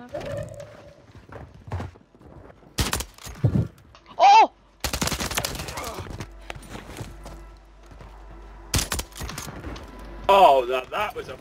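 Sniper rifle shots fire in a video game, several sharp loud cracks spread across a busy mix of game effects and speech.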